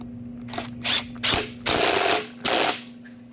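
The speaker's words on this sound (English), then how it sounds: "And now we'll put the bolt in and tighten it down." A flywheel bolt coated in Loctite 271 is run down with a power tool on a Tecate 4 engine, giving four close, loud bursts of whirring and rattling separated by short pauses.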